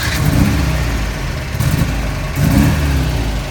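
A Manx turbo buggy engine runs close and loud, its throbbing idle rising and falling in a few steady surges across the clip.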